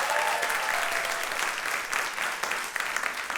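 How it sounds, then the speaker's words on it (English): Audience applause for a panel of judges at a live weekly contest show, a dense, steady wash of many hands clapping, fairly loud and sustained throughout with no talk over it. "Give them a round of applause."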